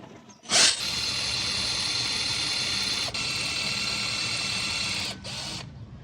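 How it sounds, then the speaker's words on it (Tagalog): Cordless drill without a hammer setting boring into concrete, a steady loud whine that starts abruptly, runs for about four and a half seconds, then winds down and stops; no talking. "susubukan po natin kung kakayanin ba ng uh, cordless drill na ito na magbutas ng konkreto kahit wala po siyang hammer setting"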